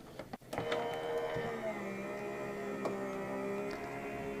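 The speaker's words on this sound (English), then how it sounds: "I'll put my little adapter plate on top, and I'll put this through my machine" A Spellbinders die-cutting machine draws paper, stencils and an adapter plate through its rollers, giving a steady, close mechanical whirring hum with faint clicks at the start and no talk.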